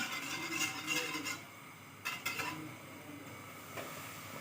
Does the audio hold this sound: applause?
no